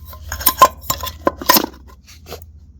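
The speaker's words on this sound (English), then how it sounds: "Got a larger pot with the butane fuel in there. That's the stove itself, and it's got a self-igniter on there and a smaller pot on top. So it all just stacks neatly." Nesting metal camping cook pots clank together with a butane stove and its self-igniter as they are stacked, a larger pot holding fuel and a smaller one on top, giving a string of sharp, close metallic clinks and knocks.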